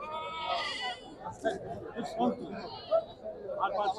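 Goats bleating repeatedly at a busy village goat market, several wavering calls close by over a murmur of crowd chatter and voices.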